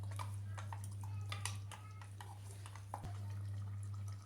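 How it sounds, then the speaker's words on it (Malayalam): Water poured into a pot of country-style green mango curry simmering with its ground spice paste, a steady splashing pour over a constant low stove hum, with no one speaking. "കറിക്ക് ആവശ്യമായിട്ടുള്ള വെള്ളം ഒഴിച്ചു കൊടുക്കുക"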